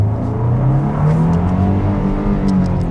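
The engine of a 2025 Nissan Armada revs loudly and close during a paddle shifter test, a steady droning roar that rises gradually in pitch with no speech over it.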